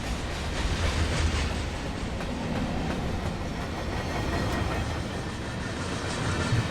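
Freight train cars rolling past in the Run 8 Train Simulator video game, a steady rumbling roll with rhythmic clickety-clack of wheels over rail joints, continuous and fairly close.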